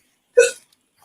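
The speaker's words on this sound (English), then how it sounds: "I have the hiccups" A single sharp hiccup in a courtroom, one short loud catch surrounded by near silence.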